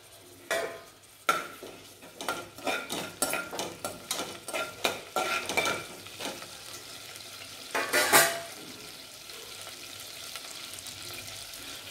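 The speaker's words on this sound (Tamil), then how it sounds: "எண்ணெய் காஞ்சதும் அது கூட 1 spoon வந்து சோம்பு" Fennel and poppy seeds frying in three to four spoons of hot oil for a Tamil mutton gravy, with a steady sizzle under a run of rhythmic scraping stirs from a spoon in the pan.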